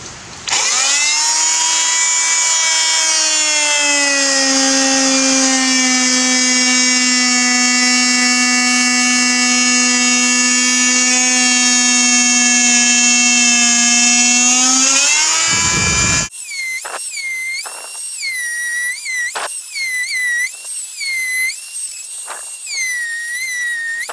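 A tool whines loudly and steadily as its blade cuts tread from a spinning zero-turn mower turf tire, the pitch rising at the start and holding for about fifteen seconds, then breaking into shorter, uneven screeching bursts.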